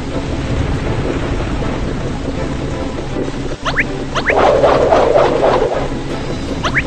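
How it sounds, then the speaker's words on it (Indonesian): Thunderstorm at sea in a children's cartoon: a steady wash of wind and rain with rumbling thunder and whooshing gusts that swell toward the end. No speech. "Hati-hati, badai semakin kuat."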